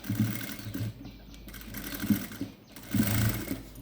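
A sewing machine stitches a silk saree being made into a frilled gown, running in three short bursts of rapid mechanical whirring with brief pauses between them, close and fairly loud.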